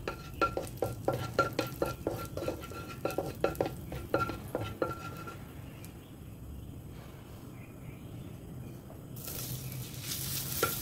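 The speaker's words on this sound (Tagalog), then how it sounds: "At i-stir-fry natin muna yung hotdog." Hotdog stir-fried in melted butter in a pan, rhythmic spatula scrapes and clatters over a continuous sizzle, then steady frying that swells louder at the end, close up.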